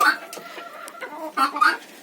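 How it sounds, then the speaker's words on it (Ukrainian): Chickens and guinea fowl clucking together in a winter farmyard coop, several birds calling close by in short irregular bursts, louder near the start and again toward the end. "Цесарки живуть разом з курми."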